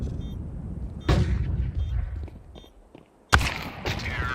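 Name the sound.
gunfire in the video game Crossfire, AK rifle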